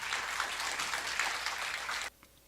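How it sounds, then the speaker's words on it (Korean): An audience at a Gimhae history lecture and branch chief inauguration ceremony applauds a visiting Buddhist monk, a steady burst of clapping from a room full of people that cuts off abruptly near the end. "큰 박수 보내주시기 바랍니다."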